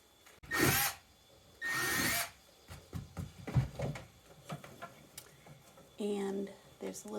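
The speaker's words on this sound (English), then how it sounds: "For these bell waterers, you drill a hole in a bucket." A power drill bores a hole through a plastic bucket for a chicken bell waterer outdoors, with two loud sustained drilling bursts, scattered handling clatter between them, and a final shorter whine.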